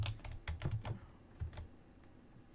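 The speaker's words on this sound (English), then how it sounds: "We'll just type in Kohl's.com." Soft keystrokes tap on a computer keyboard in a quick irregular burst, then a few more scattered presses, faint and close with no voices.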